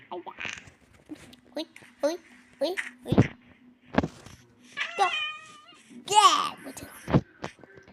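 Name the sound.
cat meowing in a video game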